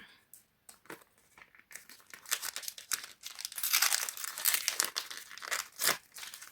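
Crinkly small plastic packets of Disney paper surprises rustle and crackle up close as they are handled and torn open, in bursts that grow louder midway.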